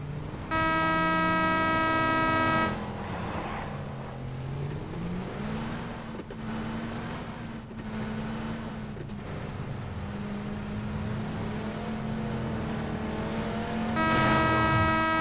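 A vehicle engine in PUBG hums and drones steadily while driving, its pitch rising and falling with throttle, and a sharp high-pitched tonal whine opens and closes the stretch.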